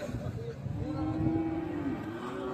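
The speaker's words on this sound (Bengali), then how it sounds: "শাহিওয়াল সিন্ধি জাতের গাভী এবং বাছুর।" A Sahiwal Sindhi cow and calf low with drawn-out moos at a busy cattle market, the calls rising over a steady crowd murmur.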